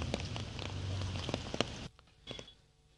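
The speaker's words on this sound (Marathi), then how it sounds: "आलेल्या पावसाच्या सरी कुणाला आवडणार नाहीत" A pre-monsoon rain shower falls in Pune in the evening, a steady hiss of drops on surfaces with occasional sharper taps, then thinning abruptly to a quieter patter.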